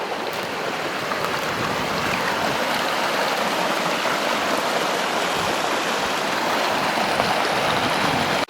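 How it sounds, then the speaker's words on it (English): A small feeder creek on Caribou Mountain in Caribou-Targhee National Forest rushes steadily over rocks, a loud, close, continuous wash of flowing water with no voices. "we've got a feeder creek coming in this way"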